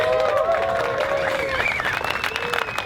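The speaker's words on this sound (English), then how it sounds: "So can we give them a big round of applause?" Crowd applause at a Gold Coast surf-protection event, a steady wash of clapping under sustained musical tones, fairly loud and continuous.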